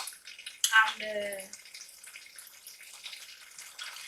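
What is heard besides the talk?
water being added to flour in a cup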